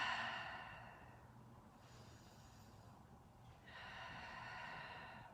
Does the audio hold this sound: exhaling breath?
yes